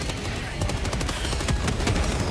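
Sustained automatic gunfire in the video game Helldivers 2, a dense, loud continuous rattle of rapid shots with occasional heavier thumps running throughout.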